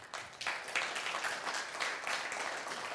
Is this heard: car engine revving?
no